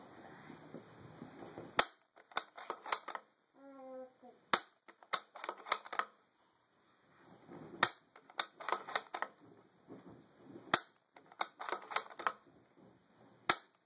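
A bolt-action .308 rifle is cycled through a five-round magazine, producing close bursts of sharp metallic clicks and clacks separated by brief pauses, with a faint ringing tone partway through.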